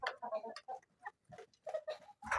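Adult Bahama Morok hens on a farm in Ullapara, Sirajganj give a run of short, choppy clucks in quick uneven bursts, fairly close and quiet, with brief pauses between calls.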